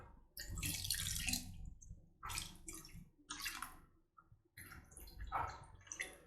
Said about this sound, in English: let's add the rest of our water and allow the chicken to cook properly.